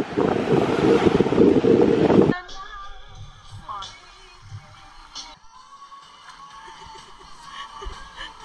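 At a windy beach, heavy wind blasts the microphone loudly for a couple of seconds, then gives way to a softer, steady wash of ocean surf with faint voices in the background.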